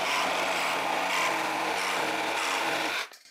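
Reciprocating saw fitted with a high carbide-tooth blade cutting through wood, a steady loud buzzing rasp that runs for about three seconds, then stops abruptly as the cut finishes, with no voices.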